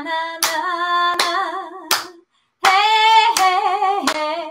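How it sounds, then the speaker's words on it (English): Rhythmic group clapping at a lunchtime children's sing-along with a space theme, crisp claps landing about every three-quarters of a second under a sung na-na chorus that pauses briefly midway. "we're going to pat our knees and clap our hands"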